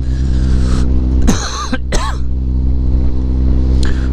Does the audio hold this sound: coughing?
yes